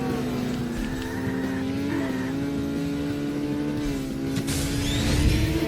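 Race car engine screaming at over 150 mph with boost engaged in Burnout 2: Point of Impact on PS2, a steady high-pitched whine on the Pacific Gate Grand Prix circuit, swelling louder near the end.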